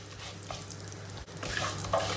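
Vermicelli frying in foaming oil gives a continuous bubbling sizzle and soft stirring scrapes. It is close, moderately quiet, and has no voices.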